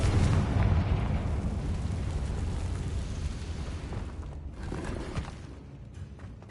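A Confringo fire-spell blast in the video game Hogwarts Legacy lets out a loud, rumbling explosion that decays slowly over several seconds into a fading roar.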